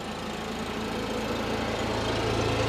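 Honda EU7000iS generator running steadily with an exhaust extension kit fitted, a constant low engine hum that holds even and close throughout, with no speech.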